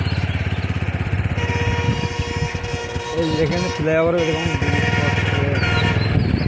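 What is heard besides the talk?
motorcycle riding through fields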